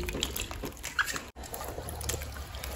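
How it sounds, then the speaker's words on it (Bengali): Mushrooms being washed by hand in plenty of water, close splashing and trickling with soft sloshes and a brief pause partway through, moderately loud with no talking. "দেখুন আমি অনেকটা জলে ভালো করে মাশরুমগুলো ধুয়ে এইভাবে ধুয়ে নিচ্ছি"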